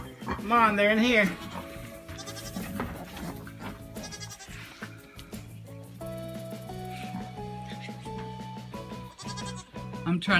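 Newly arrived farm goats bleat several times up close, their wavering cries standing out over steady background noise, with a person talking between the calls.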